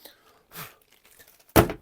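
A plastic bag is pulled off a new Squier electric guitar during unboxing, giving a loud crinkling tear near the end after a softer rustle, with faint handling noise between.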